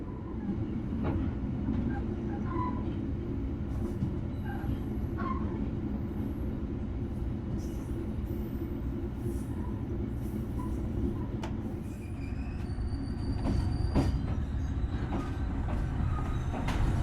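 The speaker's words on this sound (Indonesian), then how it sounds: "Kereta api Malabar yang saya naiki telah tiba di stasiun Ulingi." Malabar passenger train of Indonesian railways pulling into Ulingi station in the evening, a steady loud low rumble of rolling carriages with faint clicks and brief squeals throughout.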